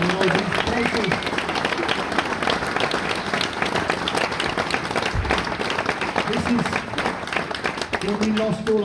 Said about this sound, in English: Can we please give an absolutely massive round of applause for all of the lovely people who work here at the Chorley Little Theatre.